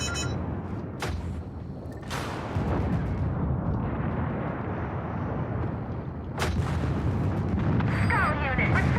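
Heavy incoming missile fire and explosions in the mech combat game MechWarrior 5 Mercenaries, a dense continuous rumble of blasts with sharper booming impacts, loud and close, under brief radio-style voice chatter.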